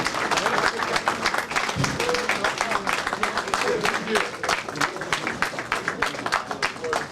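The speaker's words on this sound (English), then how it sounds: "give a resounding applause to our honoree" A gathering at a 2019 community event in Atlanta breaks into applause for an award honoree, continuous crowd clapping over several seconds, with voices talking and calling out beneath it.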